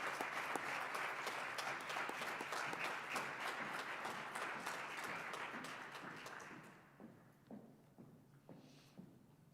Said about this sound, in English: Please give Samantha a round of applause.